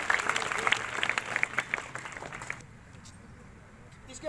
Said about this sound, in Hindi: तालियों के साथ स्वागत करेंगे सुनैना